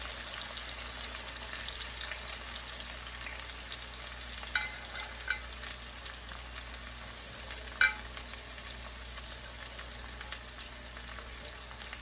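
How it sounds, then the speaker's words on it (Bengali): Onion, garlic and dried chili sizzle in hot oil for a tempering, a steady soft frying hiss with a few brief clinks of stirring, quiet and close. "এখন এই বাগারের জন্য আমি পেঁয়াজ, রসুন আর আপনার শুকনো মরিচ নিয়েছি"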